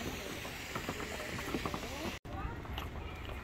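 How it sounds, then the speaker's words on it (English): A zoo waterfall pours in a steady nearby rush, with a brief dropout partway through. "I like this waterfall."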